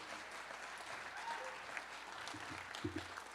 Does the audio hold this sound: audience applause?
yes